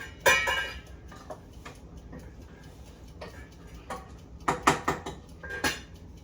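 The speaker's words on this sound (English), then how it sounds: "I'm just going to stir them to get that salt incorporated" Spoon stirring salted food in a metal pot for a ham dinner, giving scattered clinks and scrapes that cluster near the start and end, fairly close and moderate in level with quieter gaps between.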